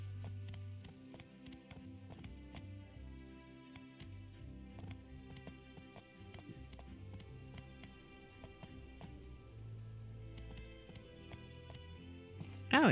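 Hooves clip-clop in a steady running rhythm in the video game My Time at Portia, over game music, with a faint patter of rain underneath.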